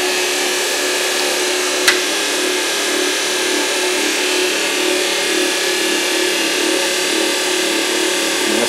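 A motor-generator loop running with its load switched on gives a steady, loud whirring hum, broken once by a sharp click early on.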